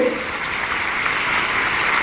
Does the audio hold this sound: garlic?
no